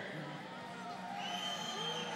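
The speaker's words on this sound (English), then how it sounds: "Yeah, who's a fan of fighting? Let me hear you cheer." Crowd cheering and shouting at a roller derby bout, Red Dirt Rebellion versus HARD, a steady dense roar of many voices filling the whole stretch, with an announcer's voice over it.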